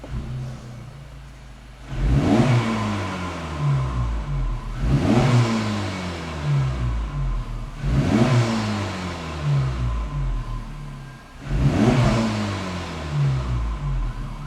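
An Acura Integra Type S (DE5) with a Sprint SF filter is revved four times in even succession, each sharp rise in engine pitch followed by a falling tone that settles back to a steady, close idle.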